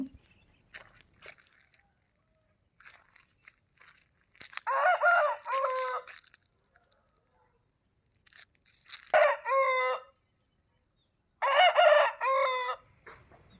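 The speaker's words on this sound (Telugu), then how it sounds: "ఇక్కడ కోడిపుంజు ఉంది" A rooster in a village street crows three times in clear, drawn-out calls spaced a few seconds apart, moderately near, with faint scattered background noises between the crows.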